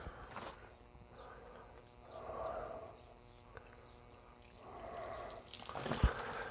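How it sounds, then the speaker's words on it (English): Water poured onto compost in a plant pot: quiet, intermittent soft pouring and trickling in a few short bursts, with faint drips and a small knock near the end. "And a bit more water onto there."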